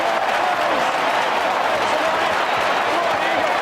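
A stadium crowd at the SCG during an AFL match roars and applauds steadily after a player's first goal, a dense, loud, unbroken wash of cheering and clapping.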